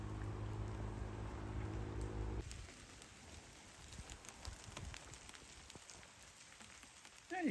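Rain pours onto water at a wild camp on a remote Scottish island, a dense hiss that drops to a softer patter midway through, with no talking.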